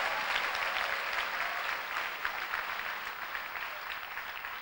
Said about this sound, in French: Acclame bien, acclame bien, acclame bien